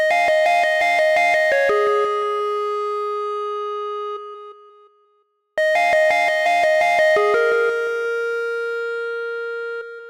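A bright synth lead from the Putt Putt preset plays a short fast run that settles into a long sustained note and fades out, then the same phrase repeats.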